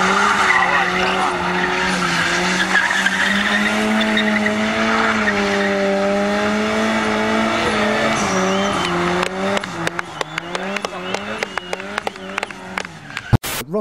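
A Ford Sierra RS Cosworth engine pulls loud and close with a steady rising drone, then breaks into a rapid series of sharp pops and crackles near the end, no talk over it.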